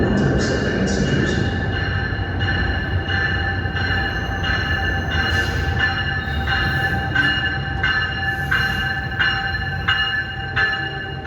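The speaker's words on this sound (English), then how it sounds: "Now here comes train 3951, the Trenton, another one of those expresses at 5:41." Train 3951, a Trenton express, rolls into Newark Penn Station with a loud rumbling roar, and rhythmic clacks and squeals come through as the cars pass near.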